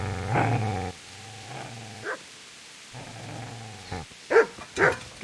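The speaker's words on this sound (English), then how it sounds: "Get away, you mutt!" A dog in Kingdom Come: Deliverance growls low and rumbling, then breaks into several sharp, close barks and yips, with pauses between bursts.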